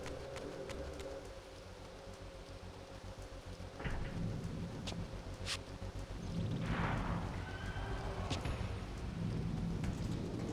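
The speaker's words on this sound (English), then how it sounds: "So there's some nice rainy atmosphere going on at the start of this area." Steady rain pours in the game Legacy of Kain: Defiance, with deep rumbles of thunder rolling in partway through and swelling over the constant hiss of falling water.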